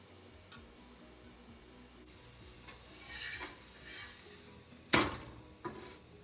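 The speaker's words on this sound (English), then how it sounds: "Flip the roti 1 or 2 times in order to cook properly on both sides." Rice roti cooking on a pan, with soft sizzling and occasional scraping and clinks of a utensil against the pan, including one sharper knock, quiet and close with no talking.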